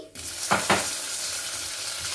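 Chopped tomato drops into hot oil in a pan for Andhra pappu charu, setting off a steady sizzle with a couple of brief stirring scrapes, close and loud, with no talking.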